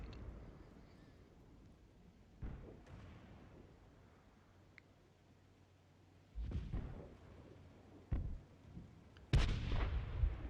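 Tank cannons fire in World of Tanks, with an M10 RBFM among the tanks, several deep booming shots at irregular intervals, some distant and one loud and close near the end, over a low rumbling background.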